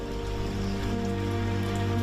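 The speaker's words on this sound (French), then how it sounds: "Jour 1, pluie modérée à forte." Moderate to heavy rain falling steadily, a dense continuous patter with low hum underneath, close and even for two seconds.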